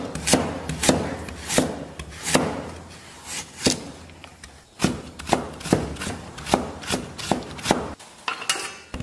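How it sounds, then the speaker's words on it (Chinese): A kitchen knife chops carrot into fine shreds on a cutting board: quick, steady, close knocks of the blade in rapid runs, with a short pause midway, and no voices. "切点胡萝卜丝儿"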